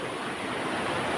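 Strong ocean waves crash against submerged rocks along a rocky shore, a loud, continuous roaring surf that fills the whole moment with no break or voices.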